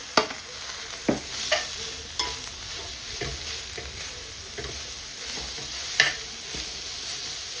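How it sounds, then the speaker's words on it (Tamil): Carrots tossed in a hot pan with turmeric and grated coconut, a steady sizzle broken by repeated spatula scrapes and clacks against the pan, close up with no voices. "மஞ்சள், தேங்காய்ப்பு எல்லாம் வந்து இதில் மிக்ஸ் பண்ணுறேன். இதோட பார்த்தீங்கன்னா நான் கேரட் எல்லாத்தையும் இதில் ஆட் பண்ணுறேன்"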